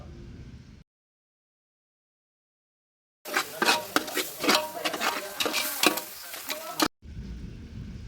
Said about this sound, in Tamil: கரம் மசாலா ஐம்பது கிராம் போட்டு நல்லா கிண்டிக்கலாம்